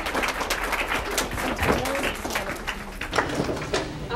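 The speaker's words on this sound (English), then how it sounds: "please give a round of welcome applause" A lecture audience applauds to welcome a lecturer, with dense, steady clapping throughout and a few voices murmuring underneath.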